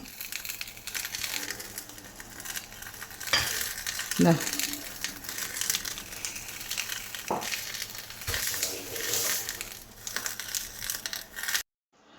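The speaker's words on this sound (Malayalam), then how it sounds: "നമുക്കിത് ഓരോന്ന് ചെറിയ ഫ്ലെയിമിൽ വെച്ച് കൊടുത്ത് ഫ്രൈ ചെയ്തെടുക്കാം." Pieces of chembally (red snapper) fish fry in a pan over a low flame, giving a steady soft sizzle and crackle throughout with a few sharper pops and scrapes, no talking.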